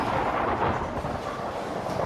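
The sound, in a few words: thunder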